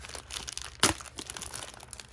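Tape is torn off the box of a B-189 Guilty Longinus Beyblade during unboxing: one sharp, close rip stands out amid soft crinkling of the packaging, with no talk.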